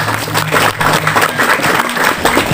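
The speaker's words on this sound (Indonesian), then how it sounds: "Tepuk tangan ini." A hall full of members at an SH Terate martial arts branch gathering in Bojonegoro clap together, a loud, close burst of applause with uneven rhythm that lasts a few seconds.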